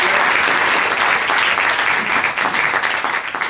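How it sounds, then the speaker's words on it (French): An audience applauds a closing pleading at a mock trial in Évreux, with dense, steady clapping throughout that is close and full and tapers slightly at the end. "Merci, on peut applaudir la plaidoirie."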